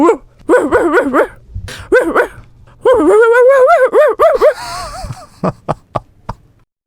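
A voice imitates a dog, letting out a string of yappy barks and a drawn-out howl-like whine, close and loud, ending in short sharp yips.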